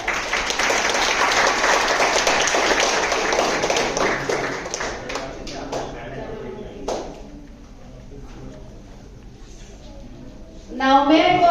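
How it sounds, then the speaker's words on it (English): Audience applause at the opening of a debating competition in Gurugram, a dense burst of clapping that fills the hall for several seconds, thins into scattered claps and fades, and then a voice begins speaking. "Please give a huge round of applause."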